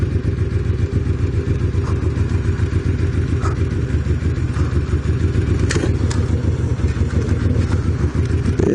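Motorcycle engine switched to its reserve fuel tank and running low on gas, a loud, steady low rumble with faint clattering, heard up close throughout without speech.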